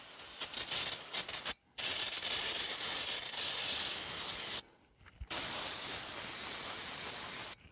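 An aerosol can of brake cleaner sprays in two long, steady hissing bursts outdoors, close up, separated by a short pause.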